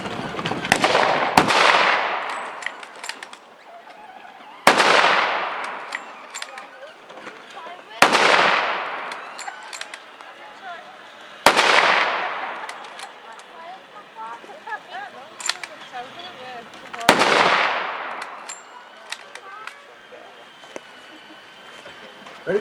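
Volleys of WW1 Mauser rifles fired at a reenactment display, five loud sharp reports spaced several seconds apart, each ringing out with a decaying echo, with faint voices and crowd murmur between shots.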